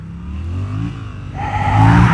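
A Yamaha MT-07 with a 689cc inline two-cylinder engine revs up loud and close, its throbbing note climbing and thickening as the throttle opens toward the end.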